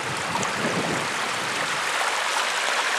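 Water seeps out of a hillside and flows along a small stream on rural off-grid property, making a steady, close, unbroken rushing hiss with no pauses.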